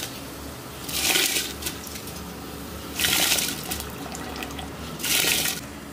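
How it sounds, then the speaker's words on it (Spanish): Rice poured into a pot of hen broth, heard as three separate rushing, hissing pours about two seconds apart over a low, steady background. "Vamos a echar arroz."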